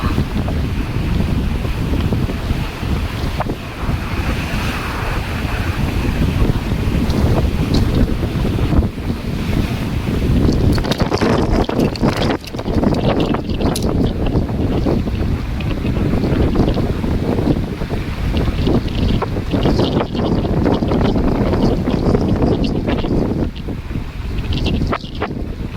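Strong wind roars across a high, exposed spot in New Zealand, buffeting the microphone in loud, continuous gusts for the whole stretch with no talk over it.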